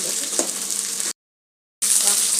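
Okra and green chillies sizzle and crackle in hot oil, a steady bright frying hiss broken by a short gap of silence, with a faint knock early on.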